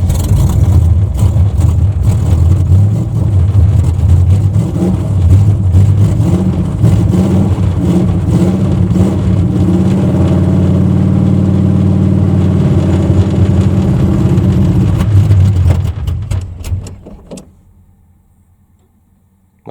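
A 1980 Chevy Malibu Landau engine, heard from inside the car, runs loud and rough through a cold start and idle, steady for about fifteen seconds before cutting off into silence.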